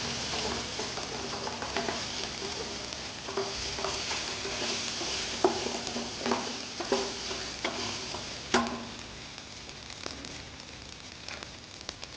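Ginger-garlic paste fries in a pan with a low sizzle, joined by scattered ticks and scrapes from stirring and one louder clack, close up with no talking.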